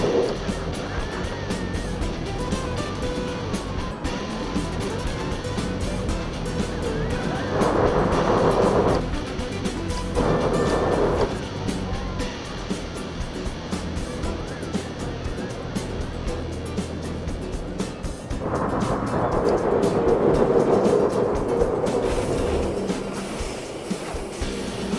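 A roller coaster in the Planet Coaster game rumbles steadily along its track, swelling into louder rushing passages as the train speeds through sections, under occasional talk.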